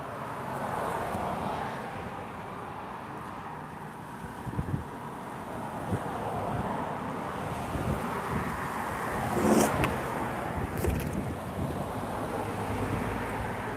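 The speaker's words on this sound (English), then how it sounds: "Pretty windy today," Steady wind buffets the microphone with a roaring, rumbling rush, swelling in gusts and never letting up.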